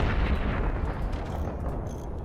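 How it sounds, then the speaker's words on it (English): Howitzer shells explode in the Forts RTS game as forts trade fire, a loud rumbling wash of overlapping blasts and crackling debris that slowly fades over about two seconds. "Howitzer projectile for howitzer projectile."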